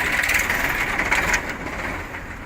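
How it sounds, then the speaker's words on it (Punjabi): A 2010 Sonalika 750 tractor idles at the Malout tractor market with a steady, close diesel rumble that softens slightly partway through, with no speech. "ਹਜੇ ਟਰੈਕਟਰ ਆ ਕੇ ਇਹ ਰੁਕਿਆ ਹੀ ਹੋਇਆ ਨਵਾਂ ਮੰਡੀ ਤੇ ਉਸ ਦੇ ਨਾਲ ਆ ਗਿਆ ਸੋਨਾਲੀਕਾ 750"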